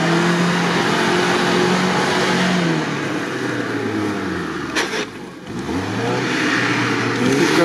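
An off-road car, among Patriots and Nivas, drives through loose sand, its engine revving hard and steadily close by, pitch rising and dipping as it labours, with no talk.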